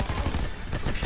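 Dense, continuous gunfire from the Cordite gun in Black Ops 4 fills a short stretch of a multiplayer match, loud and sustained with rapid overlapping shots and no clear gaps.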